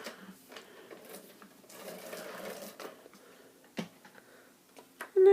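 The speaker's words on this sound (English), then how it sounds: "let's just take my ATG gun, put a couple strips down" An ATG tape gun lays adhesive strips onto a handmade birthday card, giving soft close clicking and whirring bursts with a short squeak near the end, quiet and without talk.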